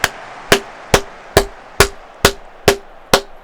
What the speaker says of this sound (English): I like clapping really loud.